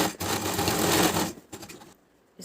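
Sewing machine stitching overlapped pieces of a girl's summer dress, a brisk continuous whir for over a second that slows into a few short stutters before stopping, close and alone.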